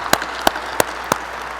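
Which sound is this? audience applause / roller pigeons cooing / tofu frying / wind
audience applause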